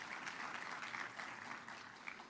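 Applause from a government event audience celebrating new American dietary guidelines: a steady, even patter of clapping held at moderate level, fairly distant and without any voices on top.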